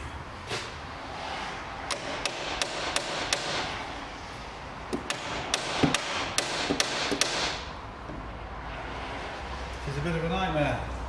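An air impact gun works on a stubborn, spinning bolt in a garage, giving two quick runs of sharp rhythmic hammering blows over a steady compressor-like hum, with a voice speaking around them.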